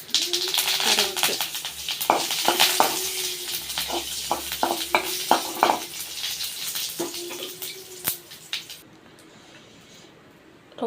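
Mustard seeds, cumin and curry leaves tempering in hot oil for a chutney, a close crackling sizzle with sharp pops and spatters, mixed with a voice talking, fading toward the end.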